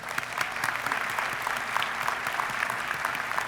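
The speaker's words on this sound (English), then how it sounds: "Let's give them a big round of applause." An audience at a university doctoral commencement ceremony claps steadily, a dense, even wash of many hands that stays loud and continuous throughout, with no voices over it.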